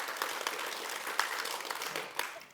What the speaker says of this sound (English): let's give them a warm applause as well